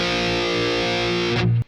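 Distorted electric guitar strum across the 5th, 4th and 3rd strings, one thick ringing chord from a rock song held steady and loud before being abruptly choked off near the end.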